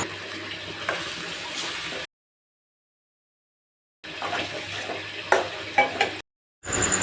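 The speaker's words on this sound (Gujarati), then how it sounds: "તેમાં બાસમતી ચોખા અને બાફેલા મગ નાખીને સારી રીતે મિક્સ કરી લઈશું." Basmati rice and boiled moong being stirred together in a pot for pulao: soft sizzling and scraping from the utensil, close, in two bursts separated by a silent gap.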